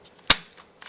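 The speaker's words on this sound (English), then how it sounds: "So that's that. It's a bolt action." The bolt of a Remington Model 710 bolt-action rifle is worked, producing one sharp metallic clack followed by a few softer clicks in an otherwise quiet space.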